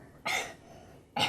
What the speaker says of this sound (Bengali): একটু কাশি দাও দেখি।